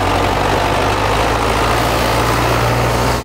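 A snow-clearing tractor's engine runs steadily on a town street in snowy conditions, a loud, continuous low rumbling drone with no talk, cutting off abruptly at the end.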